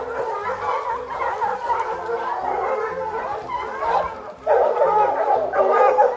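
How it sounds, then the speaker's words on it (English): A pack of dogs barks, yips and whines in a continuous, excited chorus while chasing a bear, with the barking swelling louder toward the end. "a bear suddenly becomes the one being chased as a fearless pack of dogs sends it running."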